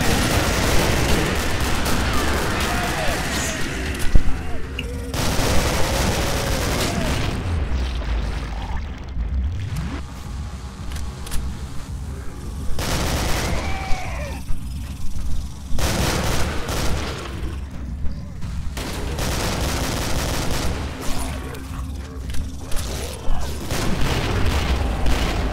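Dense, chaotic gunfire and loud booming grenade explosions in the Killing Floor video game, with bursts of shooting and several heavy blasts spread across a long, intense stretch of combat.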